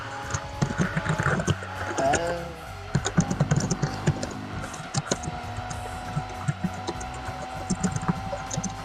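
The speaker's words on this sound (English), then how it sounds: "So much typing." Steady clattering keystrokes on a computer keyboard sound close and fairly loud over a constant electronic hum and faint game audio.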